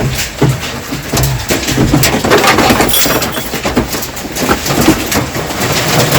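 Heavy hail and rain pelt down loudly and continuously, a dense clattering patter with scattered sharper impacts throughout.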